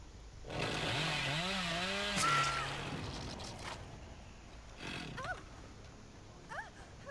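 A chainsaw in Dead by Daylight revs loudly with a wavering whine for a couple of seconds, then fades, followed by quieter in-game noises and short chirping sounds.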